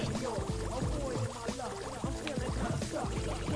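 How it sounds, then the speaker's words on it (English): Bubbling, pouring water as the level changes in a Sonic Adventure 2 space station stage, a busy flow of gurgling, warbling tones running steadily throughout without talk. "I have to raise the water level so I can reach the switch to lower it"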